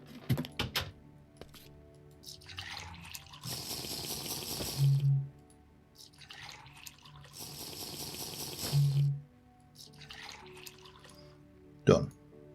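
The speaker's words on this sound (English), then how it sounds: "whiz down and fill up with water." Water filling in TerraFirmaCraft: two sustained bursts of rushing, splashing water, each lasting about two seconds, separated by quieter stretches with faint clicks and a sharp tap near the end.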